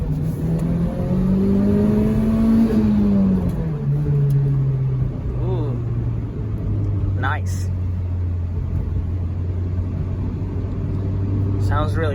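A 1990s JDM car accelerating on the road, the engine note rising through revs, dropping on a shift and then droning steadily; a man's brief remark is heard over the cabin rumble.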